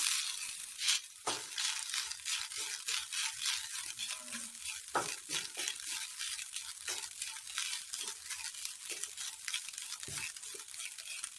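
Grated coconut sizzling and crackling in a hot pan on the stove, a steady dense hiss with repeated scraping stirs, close and continuous, with no talking.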